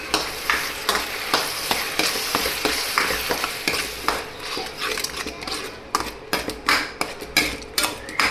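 Turmeric, chilli powder, garam masala and salt frying in oil as they are stirred for a spiced eggplant dish, a close loud sizzle broken by rapid rhythmic scrapes and clinks of a spoon on the pan.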